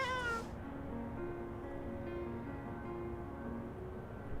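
A stressed cat at an SPCA animal shelter lets out a single short, fairly faint meow at the start, followed by a quiet, steady background hum.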